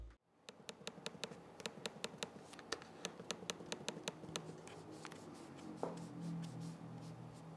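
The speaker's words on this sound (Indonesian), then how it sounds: "berikut ini deh contoh suara feedback dari touchpad-nya" The touchpad of an Acer Aspire 5 laptop is clicked about two dozen times in a quick, fairly even rhythm. Each crisp, quiet tick sounds close up against near silence, and a soft rustle follows at the end.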